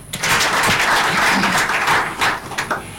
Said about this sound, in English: Make una clap for them.